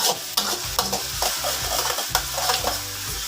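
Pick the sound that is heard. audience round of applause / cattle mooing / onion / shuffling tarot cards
onion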